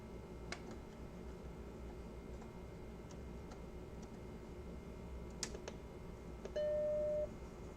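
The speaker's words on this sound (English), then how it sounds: "Let me know when you're tired of hearing the Mac boot chime." An Apple Macintosh boot chime rings out as a single short sustained tone near the end, following scattered faint clicks and ticks over a steady low room hum.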